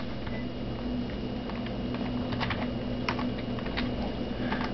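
Commands being typed on a computer keyboard, rapid clicking keystrokes in irregular bursts over a constant low electrical hum, close and moderately quiet.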